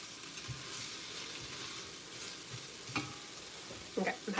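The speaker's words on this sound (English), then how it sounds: "I just want to cook it down to be like really nice and translucent and really sweat out the onions." Onions sweating in a pan for soup give off a steady, soft sizzle, with a few sharper clicks and scrapes from stirring, louder near the end.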